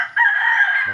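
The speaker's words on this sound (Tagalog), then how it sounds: "Ang daming manok dito mga kaibigan." A loud, close crow from a gamecock rooster in Guiuan, Eastern Samar, Philippines rings out in one sustained call, ending with a brief clucking sound.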